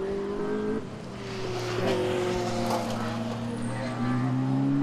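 Porsche Cayman and Ferrari Spider GT Cup race cars at Oulton Park run side by side at high speed, engines droning loud and steady with a shifting pitch, while a commentator talks over them.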